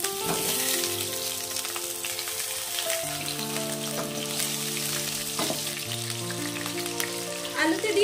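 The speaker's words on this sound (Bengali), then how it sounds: "তেল গরম হয়ে গেছে, দিয়ে দেব বড় বড় করে কেটে রাখা আলু।" Large cut potatoes sizzle in hot oil in a pan, a steady continuous frying hiss with crackles and pops throughout, close and fairly loud, with no talking.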